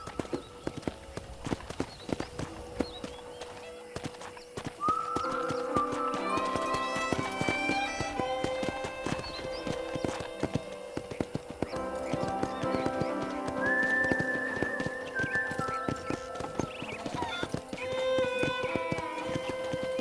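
Steady hoofbeats clip-clop throughout with brief whinnies and a faint background hum, the horse moving at a walking pace, fairly close. From the video game Red Dead Redemption.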